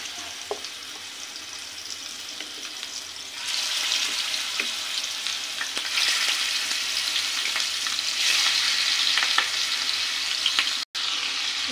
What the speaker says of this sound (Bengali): এই যে হাঁড়িতে আমার সবগুলো মাছ দেওয়া হয়ে গেছে। এখন আমি ভালোভাবে ভেজে নিব।